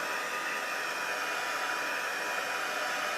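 A heat embossing tool blows hot air in a continuous, loud, even rush like a hair dryer, held close throughout with no pauses or talking.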